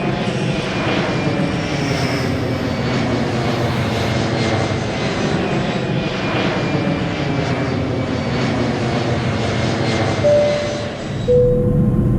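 Toy KLM 787 airplane from an airport playset taking off, a steady recorded jet engine roar that holds loud and even throughout, with a faint high whine over the top.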